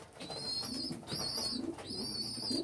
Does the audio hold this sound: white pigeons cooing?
yes